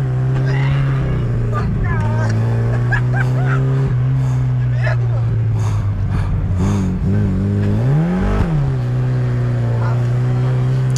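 A Chevrolet Chevette race car on a racing track, its carburetor out of tune and short on power, drones steadily with a brief rise and fall in engine pitch, while people talk over it.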